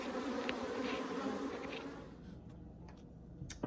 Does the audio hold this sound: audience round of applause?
no